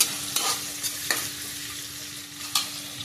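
Drumstick pods sizzling in a hot pan while being stirred, with a steady frying hiss and several sharp scraping strokes of the spoon, close and alone.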